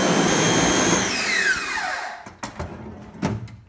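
A water spray hisses loudly and steadily as an exposed screen printing screen is washed out, then a motor winds down in pitch and the spray stops, leaving a few faint knocks and splashes.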